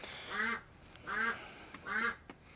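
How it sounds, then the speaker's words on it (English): Three evenly spaced, fairly faint quacks come from a hen duck on a snowy morning homestead, with quiet background between them. "There she's quacking."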